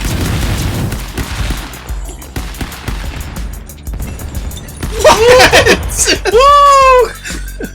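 Rapid cartoonish gunshots and impacts from the online brawler game Stick Fight pop in quick bursts, partly buried under excited shouting and whooping voices that grow louder toward the end.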